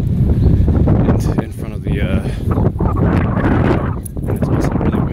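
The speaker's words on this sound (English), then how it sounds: "it's also really windy, so I'm trying not to drop my phone. As you guys can probably hear the wind." Strong wind gusting across a phone microphone outdoors, a heavy low rumble with buffeting that nearly fills the clip and swells and dips, while a person talks over it.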